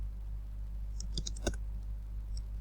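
A few scattered keystrokes clack on a computer keyboard while entering a GW-BASIC program, with one sharper click standing out, quiet and close against a low steady hum.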